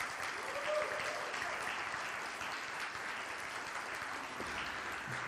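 A congregation applauds Reverend Noelle Nielsen at Unity on the Bay, a steady, dense wash of clapping that holds evenly for several seconds, with faint voices mixed beneath it.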